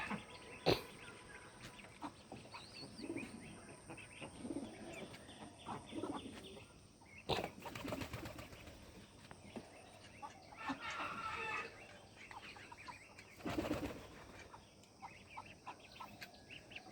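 Chickens cluck and young roosters attempt crows in the morning at a farmyard, heard at a moderate distance amid faint background noise and occasional louder knocks.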